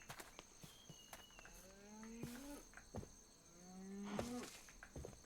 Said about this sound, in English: Haven't really spent much time around cows in this mod pack. They got different noises.